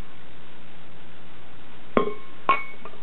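A glass is set down over a beer bottle, giving two short, sharp glassy clinks about half a second apart, then a faint ringing tap, against a quiet background.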